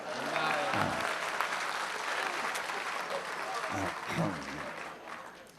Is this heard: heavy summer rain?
no